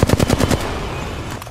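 Rapid automatic gunfire in the video game Apex Legends, a fast burst of loud, close shots over the first half second, then trailing off into fading echoes and ambient noise.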